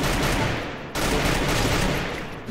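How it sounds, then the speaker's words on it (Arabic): SCAR rifle gunfire in the Free Fire video game, a loud, continuous rapid burst of automatic shots with a short break near the one-second mark before firing resumes. "اطلاق سكار. صوت صوت اطلاق، صوت اطلاق."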